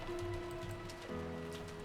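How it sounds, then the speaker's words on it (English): Steady heavy rain falls throughout the Umineko visual novel scene, a constant dense patter sitting under a low sustained musical drone. "And it was raining this hard too."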